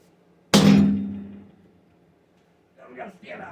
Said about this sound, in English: So let's get a hammering on this.